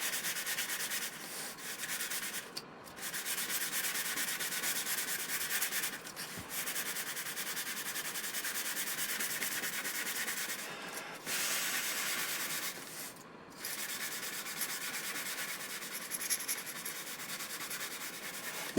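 Hand sanding of a beginner's Cadet model glider, shaping the ribs before covering, a close, steady hissing rasp of paper on wood in long strokes, broken by a few short pauses.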